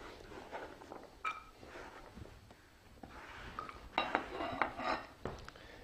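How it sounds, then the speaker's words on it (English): Ingredients go into a sauté pan with a little vegetable oil, heard as soft clinks and scrapes of cookware and utensils with a few sharper metallic knocks near the end. "this is going to go into a sauté pan. Just a little bit of vegetable oil in here"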